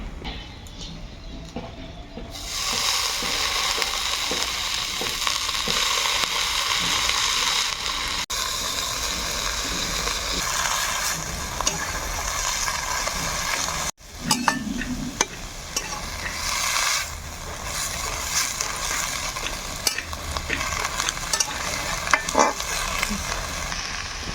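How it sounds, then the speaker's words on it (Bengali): Bathua greens going into a pan with chopped chilli and garlic, then frying and being stirred: a loud, steady sizzle with intermittent spatula scrapes, a brief dip midway, close up. "ভালোভাবে ভেজে নিয়ে এবার ছেড়ে দেবো শাকটাকে।"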